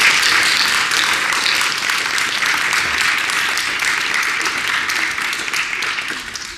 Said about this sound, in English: Can we give an applause for them?